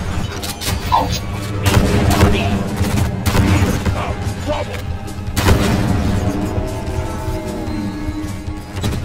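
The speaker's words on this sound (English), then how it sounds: "Explosions on the move." Repeated booming explosions and bursts of gunfire crash through a Deep Rock Galactic game soundscape, loud and close, with excited voices talking over the blasts.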